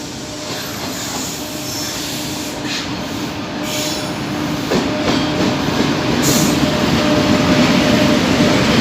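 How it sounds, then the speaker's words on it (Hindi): The Kochuveli–Yog Nagari Rishikesh Superfast Express pulls into platform 1 at Roorkee railway station. A steady, loud rolling rumble and clatter of rail cars builds slightly in volume over several seconds. "इस समय रुड़की के प्लेटफॉर्म नंबर 1 पर आ रही है कोचुवेली योगनगरी ऋषिकेश सुपरफास्ट एक्सप्रेस।"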